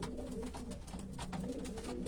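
Racing pigeon cock of Alien cross lineage cooing in a loft, a steady series of low, throaty coos close by with soft repeated pulses, no talking.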